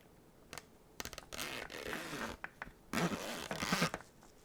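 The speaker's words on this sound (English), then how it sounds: "We got a zipper here." A zipper is pulled in several quick rasping strokes, close up, with short pauses between bursts and a longer, louder pull near the end.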